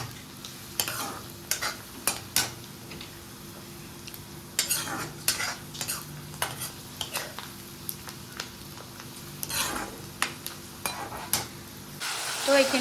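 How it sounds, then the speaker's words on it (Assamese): Onion fries in a pan for a chicken dish with a soft, steady sizzle, while a utensil scrapes and clacks against the pan in irregular bursts of stirring. "পূৰা পিঁয়াজটো ৰঙাকৈ ভাজি ল'ব লাগিব"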